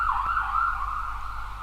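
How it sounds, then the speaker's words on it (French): An ambulance siren passing outside, a loud wailing tone sweeping up and down in pitch over a low background rumble. "Désolé pour l'ambulance."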